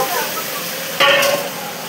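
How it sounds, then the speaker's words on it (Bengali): Potatoes fry in a pan with ginger and turmeric, giving a steady close sizzle. The hiss swells abruptly partway through as the pieces are turned. "এখন আলুটা ভালো করে ভাজা হবে।"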